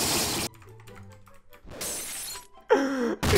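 Minecraft glass blocks shatter during SkyWars with a loud, exaggerated sound pack, a few harsh, distorted breaking bursts that cut in and out abruptly, separated by short quieter gaps.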